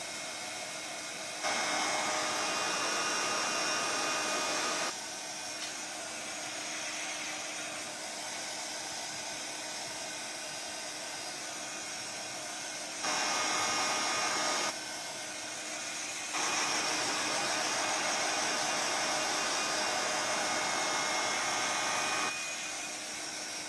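A hand-held dryer drying paint in an art journal blows with a steady whooshing roar, switching between a louder and softer setting several times over a long stretch, no talking.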